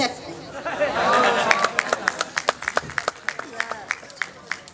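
At the Meer mela poetry fair, a murmur of voices gives way to a round of audience clapping. The claps are distinct and fairly evenly spaced, a modest ovation that thins out toward the end.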